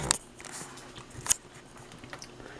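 Quiet, close biting and chewing of cheesy bacon chicken tenders, with a couple of sharp crunchy bites followed by soft, irregular mouth sounds and no talking.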